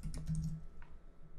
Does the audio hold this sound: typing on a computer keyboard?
yes